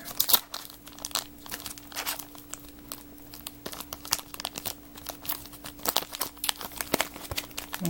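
Foil wrapper of a 2014 Cryptozoic Ender's Game trading card pack crinkling and tearing as someone struggles to open it by hand, a close run of sharp rustles and crunches with a faint steady hum underneath.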